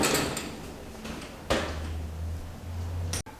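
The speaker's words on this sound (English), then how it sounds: "Here is another door going on." A greenhouse door being fitted onto a lean-to greenhouse during assembly gives off a few dull knocks and sliding, rattling clunks over a steady low hum, ending in a sharp clack.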